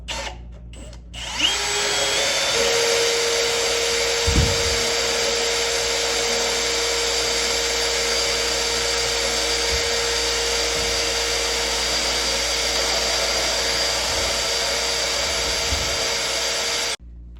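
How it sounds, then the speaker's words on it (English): A power drill bores steadily through spot welds on a junkyard car body panel beside an H22A engine, a loud continuous high-pitched whine with brief dips and knocks as the bit bites and breaks through, running nearly unbroken for the whole stretch. "if you drill out the spot welds, the pieces literally come apart"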